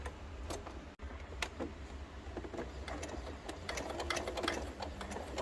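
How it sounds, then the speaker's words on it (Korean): A sewing machine runs steadily while stitching the pocket of a pair of shorts, a close, even mechanical whir with fast ticking stitches that carries on without a break except for one brief stop near the start. "그래서 바느질 해볼게요"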